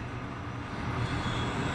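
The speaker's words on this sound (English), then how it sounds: "This tram is bound for Nest." Tram in Resident Evil 2 Remake rolling along its track, a steady loud low rumble with faint rhythmic clatter, close and continuous, with no talking.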